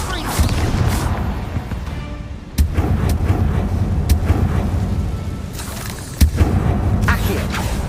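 Bombarda spell explosions in Hogwarts Legacy, with sharp booming blasts at intervals over a loud, busy background, and a voice heard in between.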